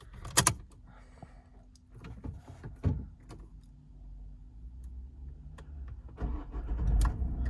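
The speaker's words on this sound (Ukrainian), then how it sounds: "Запускається двигун ідеально" Opel Zafira engine starting: a few faint clicks, key jingles and door-like thuds in a quiet cabin, then the engine cranks and catches near the end, settling into a low, steady running rumble.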